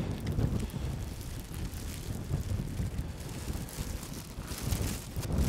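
Harsh wind blowing across a sheep farm during lambing time, gusty broadband buffeting on the microphone that rises and falls irregularly, moderately loud and unaccompanied.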